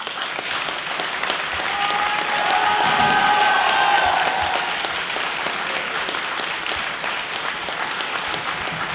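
Applause and cheering for the winning team at a French national debating championship, a dense, steady ovation from a large audience with scattered whoops, swelling in the middle before settling into continuous clapping.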